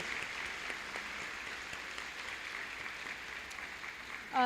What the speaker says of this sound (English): giving them a round of applause for all that they've done throughout this year